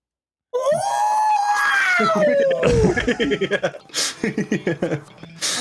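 A person vocally imitates the R2-D2 droid's scream: a loud, rising-then-falling electronic-style wail lasting about two seconds, followed by choppy, stuttering vocal bursts and laughter-like sounds.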